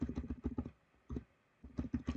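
Typing on a computer keyboard, quiet close bursts of rapid key clicks separated by short pauses.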